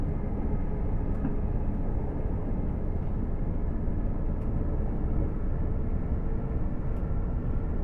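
A BR Class 802 train in GWR livery gives a steady, dense low rumble as it accelerates in a train simulator game, a continuous cab-interior drone with faint occasional clicks.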